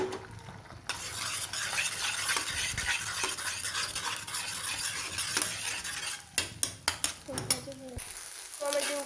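Eggs sizzle in a hot pan with a constant, dense hiss. Near the end a spatula scrapes and taps sharply against the pan several times.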